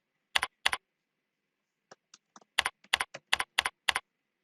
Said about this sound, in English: here I'm going to type in my name and surname